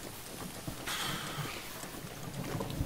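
Rain falls in Zelda: Breath of the Wild as a faint, steady hiss that swells briefly brighter for a moment before settling back to a soft wash.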